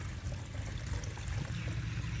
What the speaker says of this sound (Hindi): ये छानी से साफ़ हो रहा है पानी।